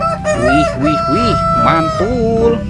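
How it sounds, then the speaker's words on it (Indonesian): A rooster crows in a series of loud, close calls, with a person speaking briefly over it. "Ini ada ayam berkokok."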